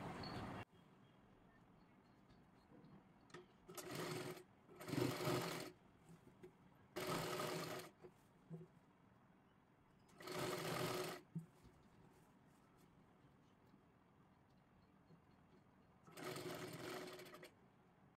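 A sewing machine stitches a kurti in a series of short whirring runs, about six bursts of a second or so each separated by quiet pauses, fairly close but soft overall.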